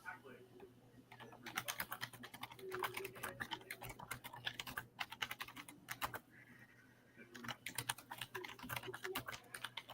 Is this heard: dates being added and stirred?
no